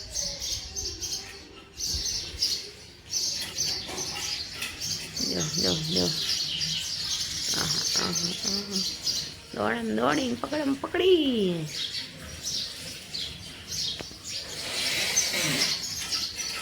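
Sparrows chirp through the morning air, with many small bright tweets scattered across the whole stretch, while a person talks over them off and on.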